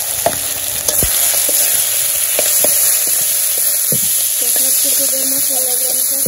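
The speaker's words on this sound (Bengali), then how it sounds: "মশলাগুলো আমি কষে নেব।" Ground spices (turmeric, coriander powder) with salt sizzle and fry steadily in a hot pan, with a few scraping stir strokes and clinks from a spoon throughout, no talking.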